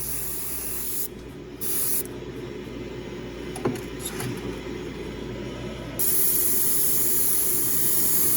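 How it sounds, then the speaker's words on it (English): An airbrush sprays thin coats of paint onto a white metal model of a Bitter Creek four-wheel coal jimmie, a steady soft hiss that runs without a break and grows a little louder toward the end, with no one talking. "that's where this airbrush is really the only way to go"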